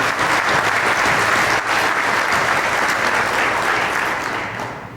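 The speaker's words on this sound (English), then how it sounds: "a round of applause for the Rotary Club." A large crowd at a Salute Week event applauds the Rotary Club, a loud, dense wall of clapping that holds steady and then gradually tapers off over about five seconds.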